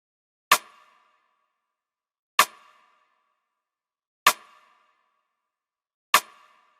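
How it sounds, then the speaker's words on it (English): A layered snare, two snares stacked with a rim-shot character in an R&B beat, strikes four times alone at an even, slow interval, each hit sharp and crisp with a short decay into silence. "So yeah, first off, I just added a snare."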